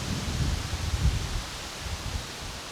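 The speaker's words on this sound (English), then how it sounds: "Yeah, very windy." Gusty wind buffets the microphone along a lakeside trail at Pickerel Lake, a low rumbling rush that swells and eases over a few seconds with no voices.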